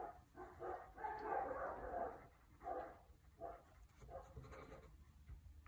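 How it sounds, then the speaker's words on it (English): Neighbours' dogs bark outside an open window at the back of a house, a series of bursts in irregular clusters, moderately distant and fairly clear, with no talk over them. "Sorry if you can hear dogs barking. I've got the window open."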